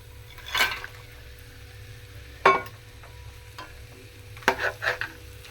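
A spoon stirs and scrapes in a pot as eggs and vadiyalu go into a seasonal curry of drumstick, jackfruit seeds and raw mango, giving three short clattering bursts over a low steady simmer.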